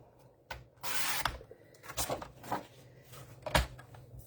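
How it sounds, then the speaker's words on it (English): A paper trimmer slicing through cardstock, with a rough sliding cut followed by several sharp clicks and taps from the blade and base, close and fairly quiet. "let's just take our trimmer again and trim this down"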